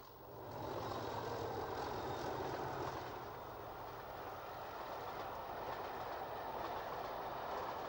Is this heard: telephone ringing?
no